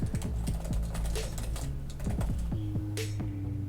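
Soft, quiet keystrokes on a backlit Logitech Folio Touch iPad keyboard case, close and steady with light irregular taps, a few brief tonal sounds in the background.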